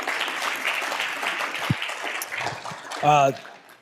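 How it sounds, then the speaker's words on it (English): An audience at an AI meetup gives a round of applause, many hands clapping in a steady wash that fades, followed by a single voice speaking near the end. "give Bobby a big round of applause"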